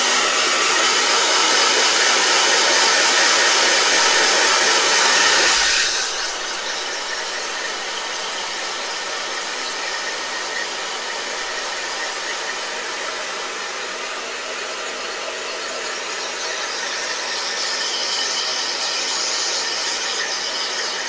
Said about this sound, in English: Blow dryer. Hold on.